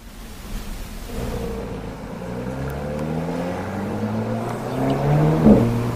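An Alpine sports car driving on the Circuit du Grand Ouest Parisien during a cornering brake test, its engine note climbing steadily in pitch as it accelerates, loud and close, with a tyre or brake squeal near the end.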